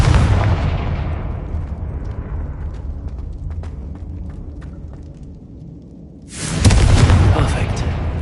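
The Confringo explosive spell goes off in Hogwarts Legacy on PS5 as a loud, booming blast that rumbles and slowly fades over several seconds, then a second heavy burst erupts near the end.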